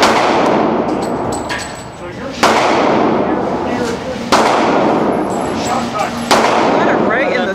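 Gunshots crack out at a shooting range, three loud, sharp reports spaced about two seconds apart. Each one rings off quickly, and people can be heard talking between and under them.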